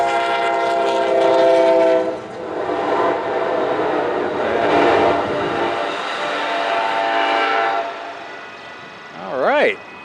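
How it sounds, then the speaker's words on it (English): Passing Amtrak train along Route 66 in Atlanta, Illinois, its horn sounding in long sustained blasts over rumbling rail noise, fairly loud, with a voice speaking briefly near the end. "hello, Amtrak."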